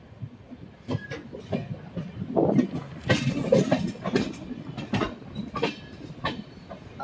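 The 15483 Sikkim Mahananda Express rolls into Siliguri Junction station with uneven clickety-clack over rail joints, metallic clanks and thumps, and brief wheel squeals, fairly close and varying in loudness.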